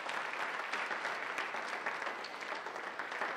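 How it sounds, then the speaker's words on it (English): Audience applause at a season finale event, dense continuous clapping from a crowd heard at a moderate distance, fairly quiet and steady throughout with no talking over it. "let's give these people a round of applause for their time here."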